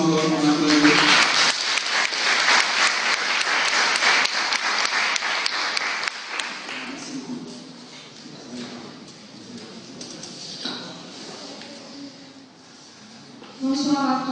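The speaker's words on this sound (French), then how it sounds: "Sous vos applaudissements, on applaudit." Audience applause for a contestant at a leadership competition semi-final, a dense burst of clapping that is loud at first, then thins and fades into quieter scattered claps before swelling briefly again at the end.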